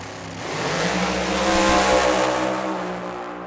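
A Fuel Altered drag racing car driven by Chris Vogel makes a run at Tucson Dragway, its loud engine roar swelling to a peak and then fading as it passes, with no voices.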